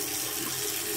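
Lukewarm water runs steadily from a tap into a sink for rinsing the face, a continuous close hiss and splash with no talk.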